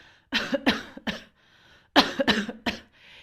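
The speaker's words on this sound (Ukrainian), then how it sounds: "І гарно собі щиро покашляйте." Two bursts of coughing from one person, each a quick cluster of three or four coughs, close and clear with a short pause between.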